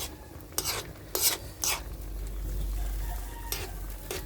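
Pork adobo boils in a pot while a spoon stirs it, making several sharp scraping strokes against the pot over a low bubbling rumble, close by and with no talk.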